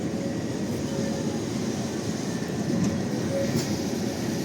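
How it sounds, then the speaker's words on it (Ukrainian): Trams rumble past in central Lviv at night, a steady close mechanical roar of rail traffic with faint wheel noise that holds throughout. "трамвайчики."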